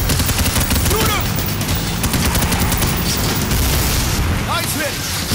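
Gunfire in the heist shooter PAYDAY: The Heist, with dense bursts of rapid shots and booming impacts running continuously and loud, while voices shout over the shooting throughout.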